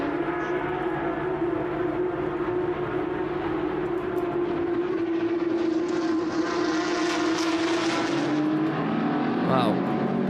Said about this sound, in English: Gets into the slipstream of Van Lagen.